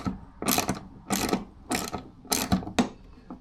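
Ratchet tightening bolts on a Toyota Alphard AH30 tailgate during an electric tailgate install: five quick bursts of rapid clicking, close and loud, with short pauses between them.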